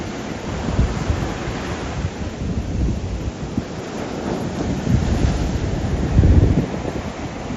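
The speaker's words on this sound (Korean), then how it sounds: "와 파도가 크게 들어오네" Large ocean waves break at a surf beach in Kenting, Taiwan, giving a continuous rushing roar that swells toward the end, with heavy wind buffeting the microphone.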